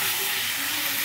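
Chicken pieces hit a hot pan and sizzle loudly, a dense, continuous hiss filling the whole moment up close.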